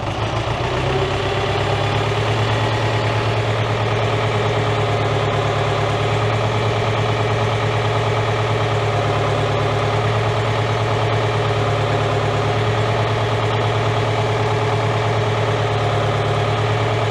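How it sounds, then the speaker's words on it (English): A David Brown Selectamatic tractor engine runs loud and close at raised revs, a steady throbbing drone with a constant low vibration and no talking. "I'm gonna rev it back up some."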